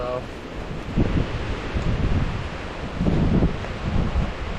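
Storm wind gusts across a campsite with rain, coming in uneven rushes and bursts of buffeting at moderate loudness, with faint voices briefly present.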